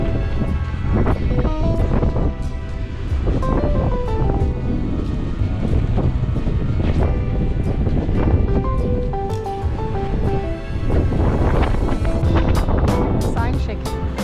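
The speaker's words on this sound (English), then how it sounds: "the wind is coming up again" Strong winter wind roars and buffets the microphone continuously by a moored motor yacht in Newport, Rhode Island, with a sign shaking, rustling and clattering underneath, and a voice talking faintly through it.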